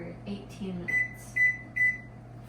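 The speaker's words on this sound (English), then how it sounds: "now I'm going to reduce the temperature to 350 and set the timer for 18 minutes" A kitchen oven beeps as its temperature and timer are set, giving three short, clear electronic beeps in an even rhythm over a low steady hum. Faint rustling comes before them.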